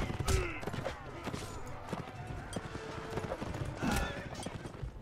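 Horse hooves clip-clop on the ground in the Mount and Blade Warband medieval combat game, a quick uneven trotting rhythm close by, mixed with clanks and a brief whinny, while someone talks over it.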